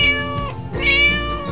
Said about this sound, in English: The cat mews.